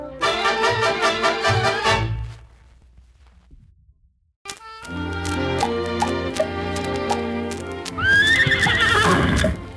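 Horses walking on a dusty Western town road, steady clip-clop hoofbeats with a break partway, then a loud whinny near the end, all close and clear with music-like tonal layers.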